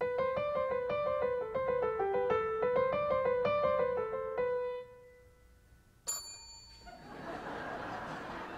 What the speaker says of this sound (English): and I'll be doing the bell.